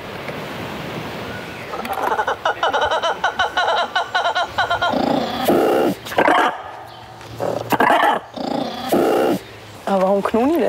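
Animals in a zoo enclosure growl and grunt in repeated rough bursts, close and fairly loud, with a person talking between them.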